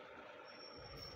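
A bus air brake hisses in a driving simulator game, a steady broadband rush with a thin high whine swelling near the end.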